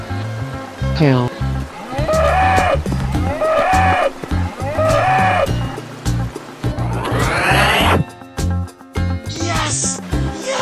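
A cow moos repeatedly in a children's animal guessing game, several drawn-out moos over a steady rhythmic music backing, followed by a sweeping sound effect.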